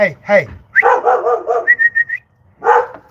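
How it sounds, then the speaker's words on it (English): A dog with a cough gives a few short, sharp barks close by, followed by thin high whines and a final yelp. "forgive my dog. She's done developed the cough. Sitting out here barking all night."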